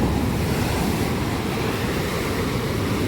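A stormy, churning sea sends waves crashing as surf in a loud, constant roar, close by and unbroken. Wind rushes over the water, and no voices are heard.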